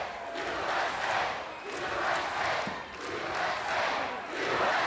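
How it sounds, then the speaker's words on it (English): A capacity crowd at a 1986 WWF wrestling arena roars and chants in steady, rhythmic waves, loud and continuous, with no talk over it. "It's capacity crowd right behind Corporal Kirshner."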